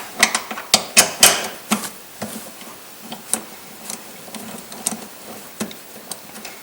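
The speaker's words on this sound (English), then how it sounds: "use a 16mm socket wrench until you take it off" A 16mm socket wrench loosening the seat bracket nuts on a BMW E36 makes sharp, close metallic ratcheting ticks. The ticks come in a quick burst at first, then thin out into sparse irregular clicks with no voices over them.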